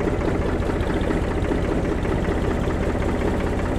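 A 351 cubic inch three-cylinder diesel tractor engine idles steadily and loudly up close, a continuous even rumble with no talk.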